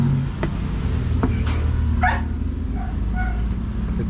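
Dogs barking on a rooftop garden: a few short, sharp barks and yips scattered over a steady low outdoor rumble, fairly near and moderately loud.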